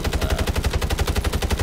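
Rapid automatic gunfire from a weapon in the Warzone video game on Rebirth Island, a steady fast burst of shots sounding close and loud throughout.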